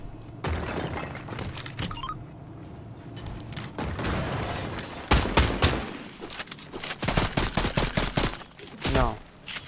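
Dense Fortnite gunfire bursts out in rapid volleys, with loud clustered shots, crashing impacts and breaking debris that come in uneven waves before ending with a few sharp final blasts.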